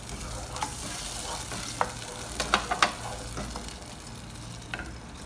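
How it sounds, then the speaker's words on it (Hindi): Caramelized sugar and mutton stock for Kabuli pulao being stirred in a pot, a steady low simmering sizzle with scattered scraping clinks of the spoon, close and moderately quiet. "साथ साथ इसको हिलाते जाएंगे ताकि ये अच्छे से मिक्स हो जाए।"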